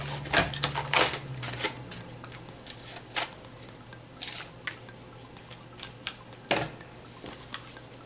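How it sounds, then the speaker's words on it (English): Several sharp clicks and crunches from a small hand punch punching paper, irregularly spaced, with a faint steady hum underneath. "I'm going to take this little punch here."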